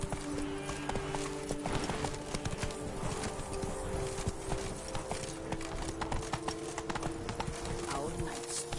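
Hooves of Roach, a horse in The Witcher 3 video game, clip-clop steadily and continuously under game music and ambient sound, with voices talking over it.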